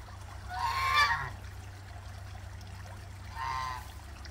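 Two honking duck calls, one near the start and another after a pause, sound over a low steady hum, with soft trickling water in the background.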